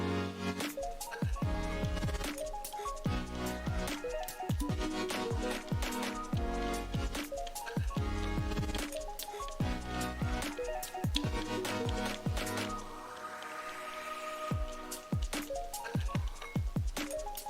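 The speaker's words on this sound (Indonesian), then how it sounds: "Kemudian kita aduk hingga rata." Batter mixed with egg yolks is stirred until smooth for a pastry recipe, giving a wet, squelching churn with rhythmic sloshing and clinks of the utensil against the bowl, steady and close.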